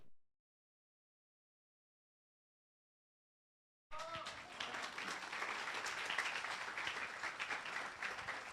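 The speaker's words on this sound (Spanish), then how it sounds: "Muchas gracias, gracias por su aplauso." An audience applauds after a lecture at the inauguration of an electoral law diploma course. The clip is silent at first, then sustained, fairly loud clapping from a full room starts suddenly and continues to the end.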